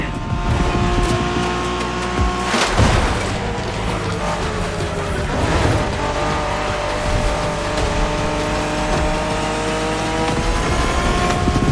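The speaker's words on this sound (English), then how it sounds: "We're going for some proper Japanese street racing." Cars engines roar and rev through a Japanese street race in the video game The Crew Motorfest, with Toyota Supras, loud and continuous with tire squeal and shifting pitch, sharp whooshes of passing cars near 2.7 and 5.5 seconds.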